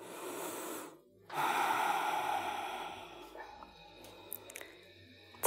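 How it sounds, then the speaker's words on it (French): Deep breaths are taken during a gentle yoga session for breast cancer, with long audible inhales and exhales close to the microphone, then quieter breathing and faint small noises. "Et on prend quelques grandes respirations ici."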